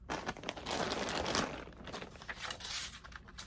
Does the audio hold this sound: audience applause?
no